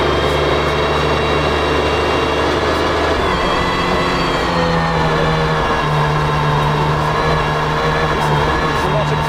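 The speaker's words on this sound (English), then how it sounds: "There's a lot of gearbox noise, but when this thing is driving, it's amazing." A loud, steady naturally aspirated sports car engine drone with a whining gearbox hum rising partway through, constant and close, like a car running at speed.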